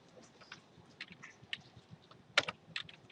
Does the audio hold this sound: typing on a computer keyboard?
yes